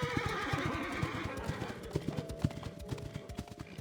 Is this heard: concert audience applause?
no